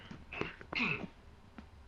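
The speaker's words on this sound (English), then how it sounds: "Sorry for clearing my throat in your ears" A short, rough throat clearing, a couple of raspy bursts close to the mic, followed by quiet.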